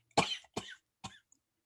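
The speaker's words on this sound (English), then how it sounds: "Let me cough one more time." Three harsh coughs in quick succession, close and fairly loud, the first strongest, followed by a brief quiet.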